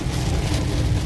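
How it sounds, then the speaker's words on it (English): Steady rain falling outdoors on a rainy day in Florida, a constant broadband hiss and patter at even loudness with no voices. "Very rainy out."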